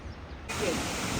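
A waterfall near Ella, Sri Lanka, heard as a steady, full, hissing roar that cuts in abruptly partway through the very short moment and stays loud and even to the end.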